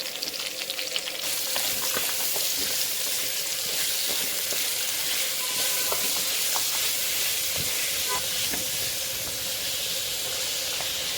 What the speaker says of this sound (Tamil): அப்படியே ஒரு 5 நிமிஷம் வதங்கட்டும்.